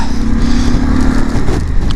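A Harley-Davidson Pan America motorcycle rides through 80 mph Storm Darragh winds in the Lake District. A steady engine drone sits under loud, close wind roar and buffeting throughout.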